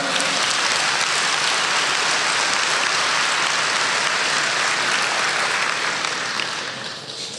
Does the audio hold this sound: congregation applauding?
yes